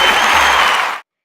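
A large crowd applauds and cheers loudly in a dense, continuous wash of clapping that cuts off abruptly after about a second.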